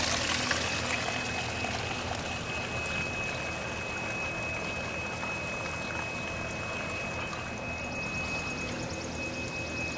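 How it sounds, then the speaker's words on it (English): Water draining from a tilapia and lotus tank system, a continuous rushing, bubbling flow that holds steady throughout at moderate level with no voices. "Every day I come over, and then we drain the system."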